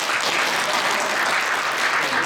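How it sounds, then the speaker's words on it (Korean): A congregation at a New Jersey elders' association prayer service gives the association president continuous, dense applause from start to finish. "박수로 많이 받아주세요"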